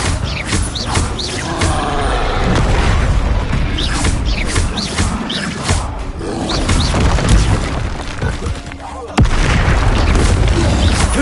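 Explosion spells Bombarda and Confringo cast in the Hogwarts Legacy video game, heard as a dense run of booming blasts and bursts over steady game noise, with a sharp louder hit near the end.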